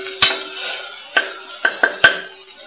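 Masala for a Marathi-style potato gravy is sautéed in a pan, heard as a few sharp metallic spatula clinks and scrapes against the pan, spaced irregularly over a quiet background sizzle.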